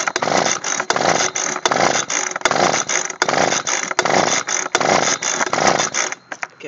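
A Husqvarna 125B leaf blower is pull-started on half choke with repeated recoil pulls, a rhythmic series of close, buzzing cord strokes, about eight in a row, each separated by a brief gap, with no voices.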